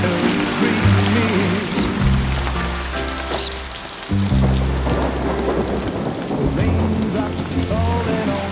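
Rain pours steadily in the video game Death Stranding 2: On the Beach while thunder rolls low beneath it, with a song playing alongside throughout.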